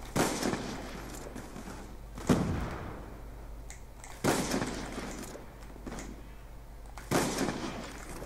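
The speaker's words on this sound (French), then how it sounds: "Arrêtez de me tirer dessus tous comme ça" Gunfire in the Call of Duty Black Ops 2 video game: several sharp, loud shots or bursts land every two to three seconds, each followed by a brief rumbling tail, with no talking in between.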